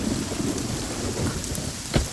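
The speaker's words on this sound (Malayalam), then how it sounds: "തെന്നി വീഴല്ലേ, നല്ല മഴയാ" Heavy rain pours down in a steady, loud hiss throughout, with a single dull thump or rumble near the end and no voices.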